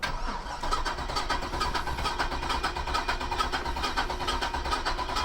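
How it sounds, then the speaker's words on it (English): An old Cadillac engine that has sat a while with thick oil is running right after being fired up, a steady close rumbling idle with a rhythmic pulsing clatter that holds at an even level with no voices. "fire that Cadillac up"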